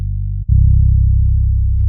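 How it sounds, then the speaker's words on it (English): Native Instruments Scarbee electric bass sample pitched down an octave, playing one deep sustained note, then a brief gap and a second low droning note that holds to the end, loud and alone with no voices. "This is a Scarby bass, and this is a Native Instruments library. I've tuned this down by an octave,"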